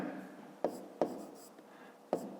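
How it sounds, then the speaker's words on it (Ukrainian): A pen writes an answer to a fifth-grade math exercise on paper, making soft close scratching strokes with several sharper taps where the pen meets the page, quiet and unaccompanied by speech. "Ну, а зараз записуємо відповідь. Пишемо відповідь."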